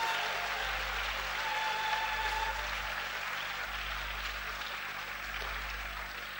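A church congregation applauds at a Sunday service, a steady broad wash of many hands clapping that holds throughout at moderate loudness, with a low hum underneath.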